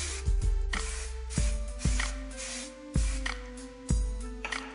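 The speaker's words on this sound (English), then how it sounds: "Now I'm going to spray air control one more time." Repeated sharp hissing spritzes of Aveda Air Control hair spray, about five bursts at an irregular pace, close by.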